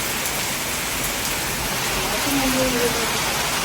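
Steady rain pours down in a dense, even hiss, with a faint voice briefly audible underneath.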